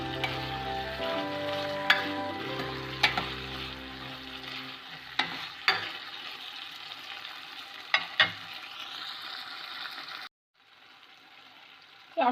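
Curry leaves sizzle and crackle in hot oil, a steady close frying hiss with sharp pops and spatters scattered throughout, ending in a sudden quieter pause with no talk.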